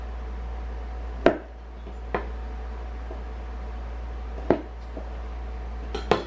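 A kitchen knife cutting off the ends of a cabbage on a board: four or five sharp, separate chops spaced a second or two apart, close and clear against a quiet background.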